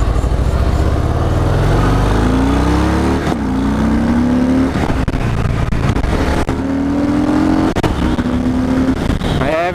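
Harley-Davidson Breakout 114 motorcycle with the newer 114 engine, heard while riding: a loud, steady low engine rumble with rising tones as it pulls through the gears, with brief dips at the shifts and no talk over it.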